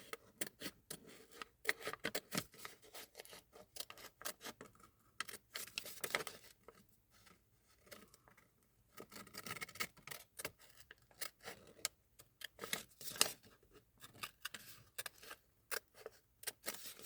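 Scissors snip through paper for an ephemera craft project in a long run of quick, faint, close clicks and cuts, with short pauses between bursts.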